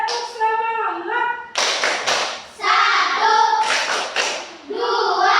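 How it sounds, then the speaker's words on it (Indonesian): Schoolchildren in an Indonesian classroom performing a rhythmic clapping chant, bursts of sharp clapping alternating with voices chanting together, close and loud. "Ayo kita semangat, kita tepuk semangat dulu."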